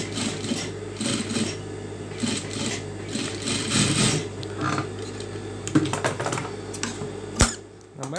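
Close, steady rapid stitching of a sewing machine running through saree fabric for a blouse, continuous rattling with small squeaks and a sharp click near the end as it stops.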